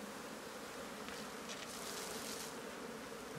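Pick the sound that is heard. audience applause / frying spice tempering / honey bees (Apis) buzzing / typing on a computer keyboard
honey bees (Apis) buzzing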